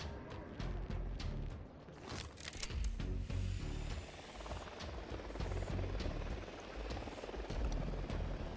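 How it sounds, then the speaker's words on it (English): Helicopter in the video game Ghost Recon Wildlands, a steady loud rotor thrum that holds close and constant throughout, with a few sharp bursts of gunfire or effects near the start. "got a chopper."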